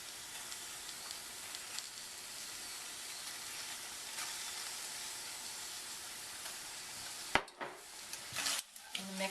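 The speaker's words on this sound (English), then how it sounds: "the rhubarb is beginning to sizzle" Rhubarb sizzles in a pan with honey for a strawberry rhubarb compote, a steady close hiss that runs unbroken, then a few clattering knocks near the end.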